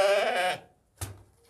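A sheep alone in an unfamiliar spot, giving one loud, wavering bleat followed after a pause by a short, fainter cry, close to the microphone.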